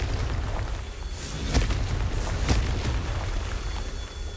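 A Confringo blasting spell in Hogwarts Legacy sets off a couple of sharp explosive bursts over a steady roaring bed, each boom standing out briefly and close, with no voices.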